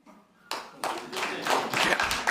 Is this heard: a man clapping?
yes